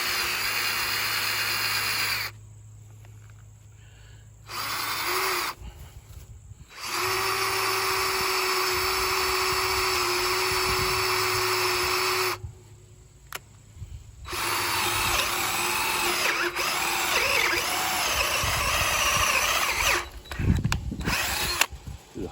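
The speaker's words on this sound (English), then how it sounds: "we're going to drill a hole in the post." Electric power drill boring a hole into a wooden fence post during gate installation, whining in several long close bursts separated by short pauses.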